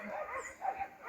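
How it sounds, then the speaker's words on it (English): Distant dogs in the Jamaican hills bark and yelp faintly in a short burst, heard alone with no talking over them. "Dogs are barking like crazy."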